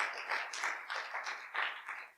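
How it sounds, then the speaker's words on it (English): Applause from the audience at the NAPE YP EnergyTech Pitch-a-Ton 2024 event for a sponsor, a moderate run of clapping with rhythmic pulses, steady and fairly quiet. "So a round of applause for Matrix as well."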